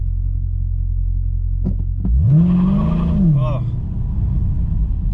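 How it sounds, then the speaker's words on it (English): A car with a 392 Hemi engine on deflated tires: a steady, loud low rumble at idle, then a short rev that rises, holds and drops back. A voice briefly exclaims. "It's just spinning the tires too much."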